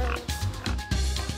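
Pig oinking in an animated fairy tale: a close series of about five short grunting oinks in an irregular rhythm, fairly loud and heard alone.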